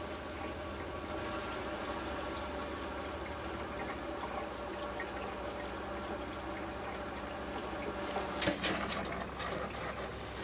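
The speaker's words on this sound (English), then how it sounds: "Is this water pump even on?" A water pump runs in a vintage 1957 Airstream trailer, giving a steady, continuous hum with faint tonal whine. Near the end it grows briefly louder and rougher for a few seconds.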